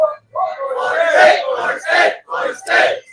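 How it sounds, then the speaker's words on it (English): A group of Florida State fans shouts a spelled-out FSU chant in bursts, loud and close, with short pauses between the shouted phrases. "Can I get an FSU cheer?"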